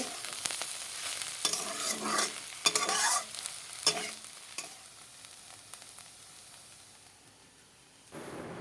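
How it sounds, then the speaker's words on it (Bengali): Bitter gourd and potato pieces frying in a small amount of oil, a sizzling hiss with repeated scraping stirs of a spatula, quieting toward the end before a final clatter. "একদম কম তেলে ভেজে নিয়েছি"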